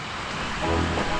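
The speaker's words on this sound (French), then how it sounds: "Petite cascade avec grotte." A small waterfall by a cave in the Bijele Stijene area of Croatia gives off a steady close rush of falling water, a broad hiss that swells slightly halfway through.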